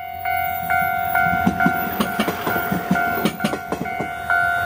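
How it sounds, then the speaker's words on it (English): A tiny one-car train in Japan rolling along its rails with rhythmic clacks and rattles, while a steady high tone sounds through the run and the loud rumble rises and falls slightly. "this train is so small"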